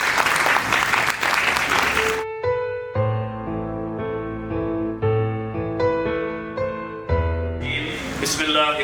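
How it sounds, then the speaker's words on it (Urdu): An audience at a World Hemophilia Day event applauds loudly to welcome a school principal. The clapping breaks off into a stretch of sustained music, then swells again near the end. "بھرپور تالیوں میں ان کا استقبال کیجیے."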